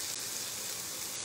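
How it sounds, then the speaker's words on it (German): Food sizzles in a frying pan during a cooking talk show, a steady close hiss with no pauses over a very short stretch. "Ihr hört es. Es brutzelt"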